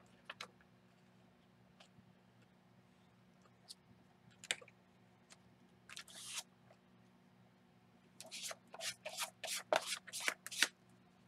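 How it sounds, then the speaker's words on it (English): Paint is scraped off credit cards by hand: quiet scattered scratches and clicks at first, then a quick run of sharp, rapid scraping strokes near the end, all close and fairly faint over a low steady hum. "let's just get the paint off the credit cards"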